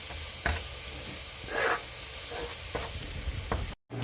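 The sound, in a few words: flour cooking and being stirred in a pan for vegan Alfredo roux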